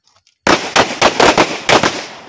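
Pistol shots during handgun marksmanship training, a quick series of about seven loud, sharp reports fired in rapid rhythm after a short quiet start.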